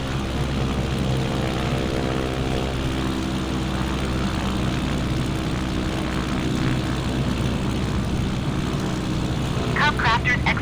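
Cub Crafters light propeller aircraft landing, a steady loud engine and propeller drone with wind noise filling the whole stretch, heard from inside the cockpit.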